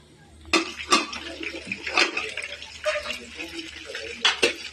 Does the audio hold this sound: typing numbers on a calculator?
no